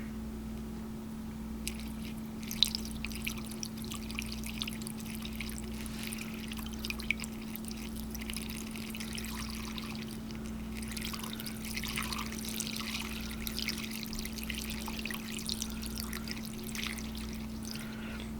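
Alcohol fuel pours quietly from a reused bottle into a vintage Coleman catalytic heater, making a soft, steady trickle with small splashes and drips over a low, constant hum.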